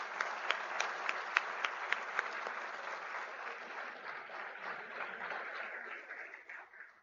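Audience applause fills the hall at a university Department of Medicine awards day, steady clapping from a sizable crowd with a few sharper individual claps early on, then slowly thinning and fading out toward the end.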